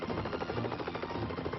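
Helicopter hovering close beside a high-voltage power transmission line, its rotor chopping in a fast, steady, loud pulse throughout, with no talk.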